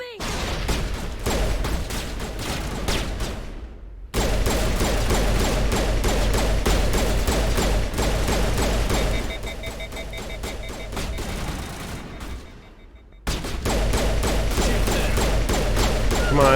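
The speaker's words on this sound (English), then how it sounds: "Shooting you right in the head." Gunfire in the sci-fi shooter Mass Effect 1, long rapid bursts of automatic weapon fire, loud and close, broken by two short pauses and mixed with mechanical clanks.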